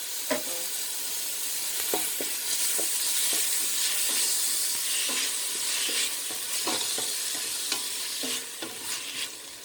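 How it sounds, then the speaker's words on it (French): Corn kernels fry in hot oil in a pan, a close, constant sizzle broken by repeated scraping stirs of a utensil against the pan, with no talk. "Je vais laisser le maïs griller un peu dans l'huile."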